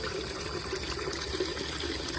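Steady water pouring and splashing into a chicken waterer, a continuous close rushing trickle with no talking.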